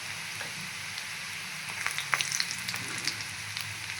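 Turmeric hits hot oil already tempered with green chilli, mustard seeds and cumin, giving a soft steady sizzle with scattered sharp crackles and pops near the pan, no voices.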